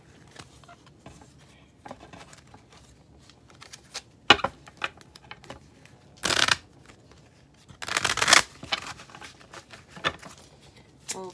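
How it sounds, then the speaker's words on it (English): A deck of tarot cards is shuffled up close: scattered soft taps, then several sharp riffling bursts, with quieter handling between them and no talk. "let's get a card from my Rebel deck"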